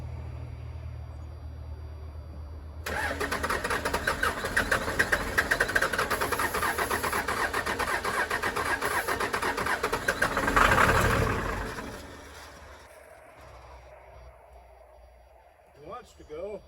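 A 1996 Dodge Ram 2500 with a Cummins 12-valve diesel cranks hard and rumbles loudly for several seconds, then the engine catches with a surge before settling down, while voices talk over it.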